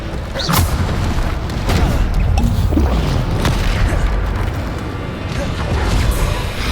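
Spell explosions from the video game Hogwarts Legacy boom and crash in dense succession, loud and continuous with sharp impacts layered over battle noise and music.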